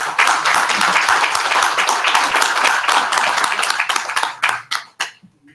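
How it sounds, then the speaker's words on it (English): Conference attendees give a round of applause for panelists at a World Food Programme session on climate action. Many hands clap in a dense burst that gradually thins into a few scattered claps before fading out. "let me just thank all of our fantastic panelists for their intervention with a big round of applause"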